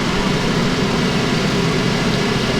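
A Suzuki Every van's engine runs steadily while air is bled from the radiator after a cracked thermostat housing caused a coolant leak, giving a constant close, even drone with no voices.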